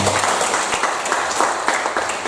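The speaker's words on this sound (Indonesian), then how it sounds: "Tepuk tangan dong saudara." Church congregation breaking into applause during a sermon, a dense wash of many hands clapping at moderate volume, with a faint voice underneath.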